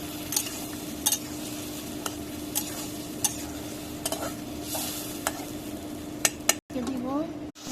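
Pangas fish curry with taro sizzles in a pan while a spoon stirs and scrapes it, the frying hiss steady beneath sharp metallic clinks at irregular intervals, ending in a brief pause and a louder burst of sizzle.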